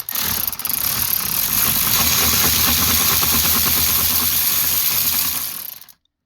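A ratchet with a swivel extension works a bolt loose on the pedal adjuster of a 2015-or-later Chevy Tahoe, a dense, steady clicking ratchet rattle, close and loud for about six seconds, then stopping abruptly.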